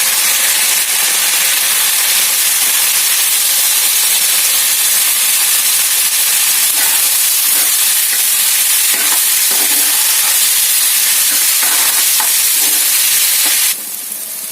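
Squeezed ridge gourd pieces sizzle steadily in a hot pan for a ridge gourd fry, a loud, continuous broadband hiss with occasional scraping stirs, dropping off abruptly near the end.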